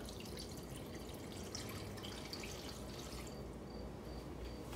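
Beef broth pours into a cooking pot in a quiet, steady liquid stream with faint dripping and splashing, close by, with no talking.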